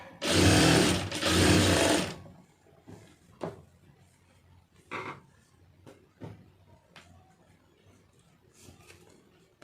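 A sewing machine stitches the lining of a blouse in a loud two-second burst, then falls quiet apart from scattered handling knocks and clicks of the cloth and machine.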